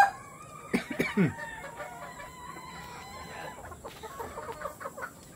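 A gray gamecock in a backyard farm pen gives a few near, loud clucks and a crow-like call early on, followed by softer scattered bird calls over steady background noise.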